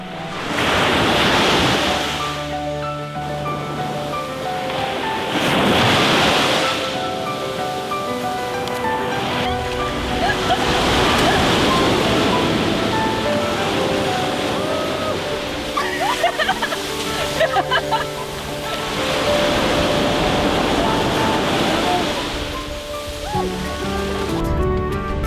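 Ocean waves break on a shore in broad, rolling washes of surf that swell and recede every few seconds, loud and close, with wind mixed in.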